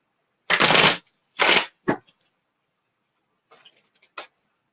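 Tarot cards are shuffled in two brisk riffling bursts and a short flick, close up, followed by faint soft clicks and taps of the cards being handled.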